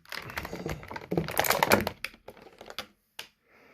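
Plastic ties are snipped off the packaging of a McFarlane Witcher 3 Geralt figure, a burst of close, dry clicking and snapping cuts with plastic rustle, trailing into a few isolated taps before going quiet.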